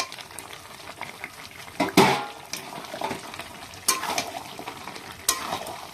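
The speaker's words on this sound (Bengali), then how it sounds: "আর এখন যে ভেজে নেওয়া চিকেনগুলো আমি এখন দিয়ে দেবো এই মশলার মধ্যে।" Fried chicken pieces are stirred into sizzling masala in a pan, making a soft steady sizzle broken by a few louder scraping, splashing stirs and clatters, close by and with no talking.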